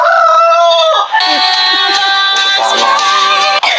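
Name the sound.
rooster crowing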